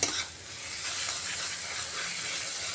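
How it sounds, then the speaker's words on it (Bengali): A spice paste stir-fried over a medium gas flame for a Bengali rui fish head kanta chorchori makes a continuous close hiss and sizzle. A brief scrape sounds at the start, then a steady fry with no speech. "এক্ষেত্রেও গ্যাসের আঁচটা মিডিয়ামে রেখে মশলাটা ভালো করে কষিয়ে নিতে হবে"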